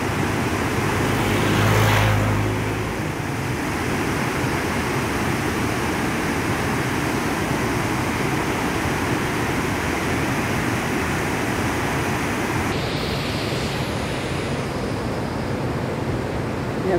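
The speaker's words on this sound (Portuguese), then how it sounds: "Olha que linda aquela cachoeira lá na frente" Steady broadband rush of a waterfall at a river in Rio Claro, continuous and fairly loud throughout with no talk, the roar filling the scene from a short distance.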